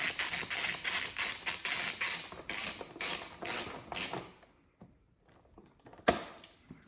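Short silver bolts being threaded into an Aprilia RS 660 taillight mount, a close, quiet series of rhythmic ratcheting clicks that stops, followed by a few isolated taps and a sharper knock.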